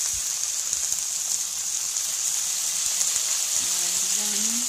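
Chicken frying for dry chilli chicken with chili vinegar added, a steady hiss of sizzling like light rain with faint scattered pops, moderately loud and close.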